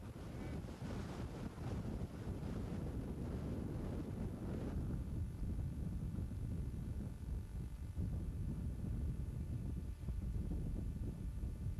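Strong wind roars steadily across the microphone in the Tunisian desert, buffeting and gusting with a dense low rumble throughout, no voices.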